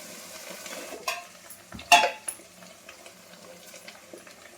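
Onions frying in a pan at home as ginger is added, with soft scraping stirs, a clatter of utensil on the pan and a low, steady sizzle underneath.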